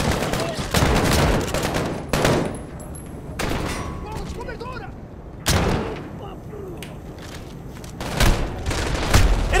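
Gunfire in Call of Duty: Modern Warfare hardcore mode: loud bursts and rapid volleys of shots with booming impacts, repeating in clusters while a player talks excitedly over the action.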